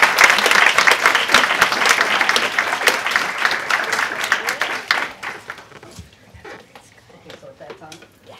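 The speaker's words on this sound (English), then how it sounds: "So a big round of applause for Jonis." A room full of people applauds for author Jonis Agee at an Omaha Reads library event, with dense clapping that stays strong for about five seconds and then thins into scattered claps.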